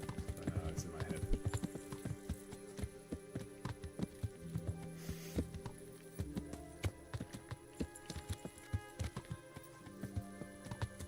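Steady clip-clop of horse hooves as a mount trots along in the medieval game Kingdom Come: Deliverance, rhythmic and close, with game music and background sounds layered underneath.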